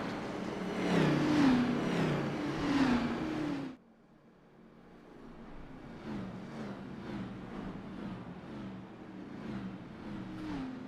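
Simulated race car engines from a NASCAR video game race at Daytona, a loud revving surge that cuts off abruptly, then quieter engine drone building back with rhythmic pulses.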